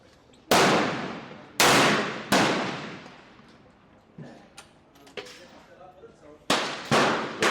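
Loud, sharp gunshots from a short-barrel gun at an outdoor range, several reports with long decaying echoes, clustered at the start and end with smaller clanks and knocks between them.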